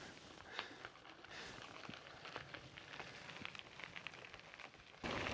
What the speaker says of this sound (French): Là, le truc qui nous manquait, il pleut.